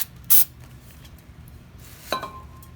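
Carb cleaner sprayed on a moped engine, two short sharp hissing spray bursts close up, separated by a quiet pause.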